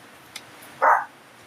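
A single short Shih Tzu bark, close by, against a quiet background.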